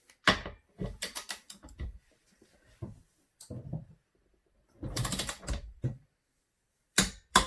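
A wrench clicks and clacks in short bursts while tightening the beadlock bolts on a KRX 1000 wheel. The sharp metallic ratcheting comes close up, with quiet pauses between bolts.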